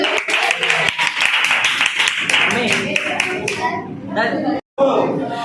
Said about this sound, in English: Clapping करें भाई.